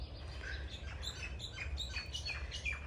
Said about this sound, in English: Beautiful. Wow. Amazing sound. The birds chirping.